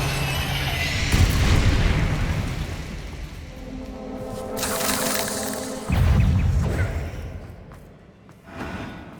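Blasting spell explosions in Hogwarts Legacy, a magic-combat video game: deep booming bursts and thuds that roll over a rumbling background, with several heavy impacts spread across the span and a loud hit near the end.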